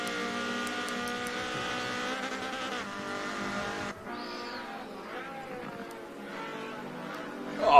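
Group C race cars running side by side, their engines a sustained high buzzing whine with shifting pitch, steady and fairly loud from a distance, easing off midway before rising again at the end.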